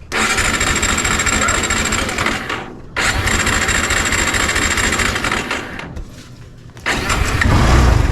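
Motor engine cranks and fires loudly up close, stalling and restarting in three surges before settling into a strong running roar, with no one speaking.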